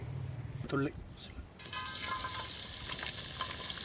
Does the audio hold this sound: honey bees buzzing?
no